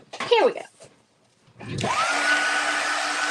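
A motor whirs up to speed after a short pause, settling into a steady, loud mechanical hum, preceded briefly by a voice.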